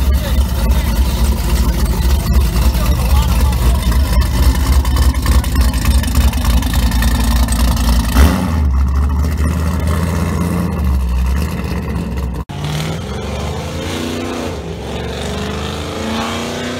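A supercharged Holden car engine fitted with a ProCharger roars loudly and steadily close by at a car meet, with the engine note shifting partway through and continuing as a heavy, rumbling drone.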